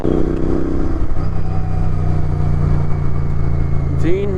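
Sports motorcycles, a ZX10R, S1000RR, Z900 and GT650, on a Sunday group ride, with engines droning and revving steadily nearby under a voice, and a brief higher rise near the end.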